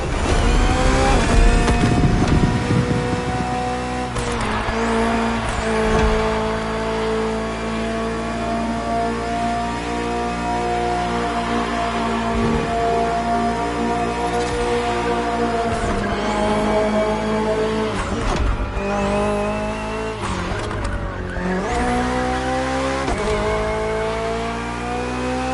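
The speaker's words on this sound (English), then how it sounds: "The BMW M Hybrid V8. What a beast." BMW M Hybrid V8 endurance race car from 2023, in a PS4 racing game, its engine revving hard through gear changes with brief tire squeal, loud and close, no voices.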